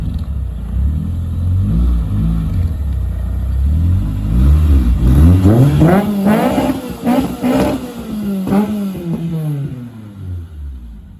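Mazda 323 with a VVL engine swap revving, repeated rising and falling engine sweeps climbing in pitch, loud and close, with a voice over the top.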